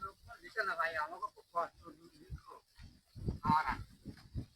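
Cattle lowing close by in a border village, with voices talking in between and over the calls.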